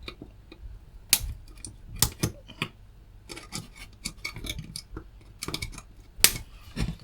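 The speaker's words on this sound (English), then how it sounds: "snip the wires." Wire cutters snipping through component wires during salvage work, several sharp isolated clicks and snaps spaced irregularly, close by amid small handling rustles.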